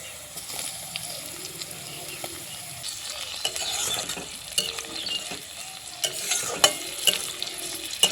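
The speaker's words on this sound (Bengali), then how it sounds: "ক্যাপসিকাম দিয়ে হালকা করে আর একটু ভেজে নেব" Capsicum frying with onion and carrot in a pan for semolina upma, a steady close sizzle with repeated scraping stir strokes and light utensil clatter throughout.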